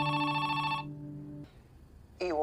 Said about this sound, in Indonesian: Tapi bukannya Tom yang menelepon